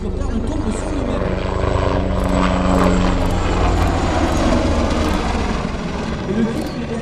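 A Tigre military helicopter flies during an aerobatic display, its loud, continuous rotor and engine roar pulsing with rhythmic blade thumps while a commentator talks over it.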